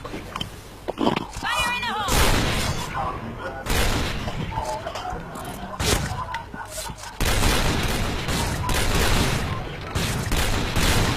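Bursts of rapid gunfire and booming shots in a video game firefight, loud and sustained, mixed with excited voices talking and shouting over the action.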